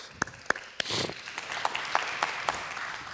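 An audience claps at a live Sukkot scripture reading, with a few sharp separate claps growing into a light, moderately distant wash of applause.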